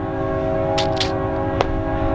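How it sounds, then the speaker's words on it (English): A train horn blares in a steady tone over the rumble of a passing train, with a few short hissing bursts mixed in. "train is coming. We'll wait for the train to go by."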